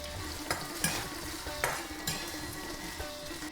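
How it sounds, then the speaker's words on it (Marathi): Potatoes frying in ghee with cumin seeds in a pan, a steady close sizzle with occasional scraping stirs of a spoon against the pan. "जिरं घालून घ्या बटाटे घालूया बटाटे चांगले परतून घेऊया"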